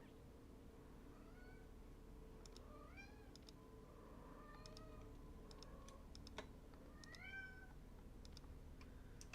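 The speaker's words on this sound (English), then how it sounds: "Oh, cat, you're loud." A cat meows several times in short rising and falling calls, faint and somewhat distant, over a low steady background hum with scattered light ticks and clicks.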